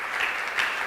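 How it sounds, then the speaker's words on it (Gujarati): A seated audience at a religious gathering claps joyfully, a brief burst of soft, even applause that lasts under a second, heard from a distance and fairly faint. "હરખી તાળીથી વધાવો"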